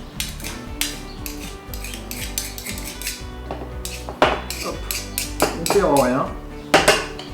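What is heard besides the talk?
spoon scraping radish-top pesto into a container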